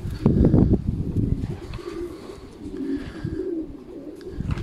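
A racing pigeon coos close by, a loud burst of low throaty cooing at the start followed by softer, intermittent coos against faint background noise.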